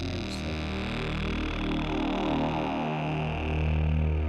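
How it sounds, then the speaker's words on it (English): A sustained Modal Argon8 synthesizer pad with added distortion gives a buzzy edge and thick stacked harmonics, holding steady and swelling slightly louder toward the end. "Add some distortion."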